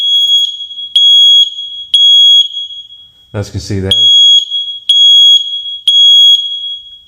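A household smoke alarm sounds its test signal after the test button is pressed: loud, sharp electronic beeps repeating about once a second, broken by a brief stretch of someone talking.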